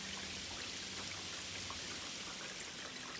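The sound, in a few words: heavy rain dripping off a gutter guard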